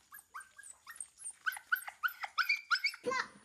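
A small dog whimpers and yips in a quick series of high, whiny cries, close and fairly loud, ending with a brief rustle.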